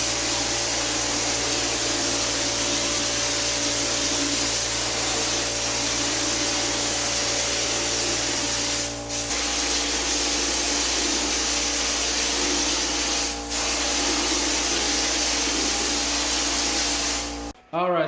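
A texture sprayer driven by a compressor sprays drywall mud onto a ceiling, giving a loud, steady hiss and roar that runs almost unbroken, with a brief change in tone midway and an abrupt stop at the end.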